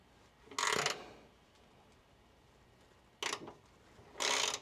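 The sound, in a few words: tightening the fuel filter hose on a 1992 Mazda Miata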